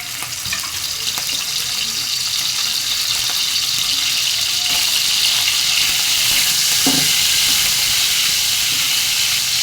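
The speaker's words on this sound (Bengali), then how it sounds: "আগে আমি মাংসটা দিয়ে দিচ্ছি ভেজে নেব" Meat frying in a little oil for a Chinese vegetable dish, a constant loud hissing sizzle with occasional stirring scrapes and a small knock, no talk over it.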